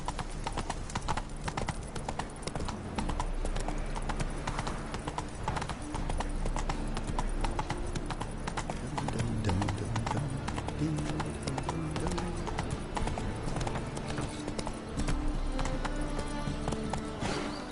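Horse hooves clip-clop in a steady, brisk rhythm while a rider moves along in a video game, close and continuous beneath game music and ambient sound.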